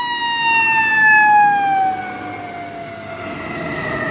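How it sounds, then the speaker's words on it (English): A fire engine siren wails loudly and close by, its tone sliding slowly downward and easing off in volume partway through, over a low hum of traffic. "There is a fire engine."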